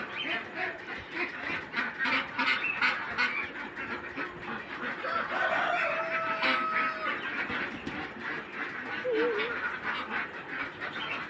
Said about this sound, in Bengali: খাবে বলে সব অস্থির হয়ে পড়েছে হাঁসগুলো।